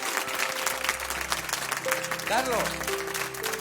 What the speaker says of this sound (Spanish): un aplauso sí. para Juani.